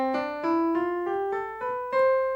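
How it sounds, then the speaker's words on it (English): A major scale played on piano, eight clean notes rising one after another at an even pace, each struck clearly and ringing close and alone. "That's the major scale."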